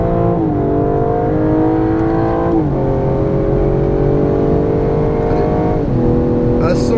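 A 635-horsepower BMW M5 CS drives out of a corner on track, its engine droning loudly and rising in pitch with several gear-change dips, while an instructor speaks over the cabin noise.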